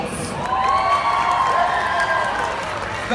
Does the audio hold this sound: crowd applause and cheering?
yes